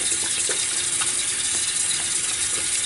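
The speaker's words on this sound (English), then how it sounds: "So I'm going to rinse my hands." Tap water runs steadily while hands are rinsed under it during a skincare routine, a close, continuous hiss with soft irregular splashes and no talking.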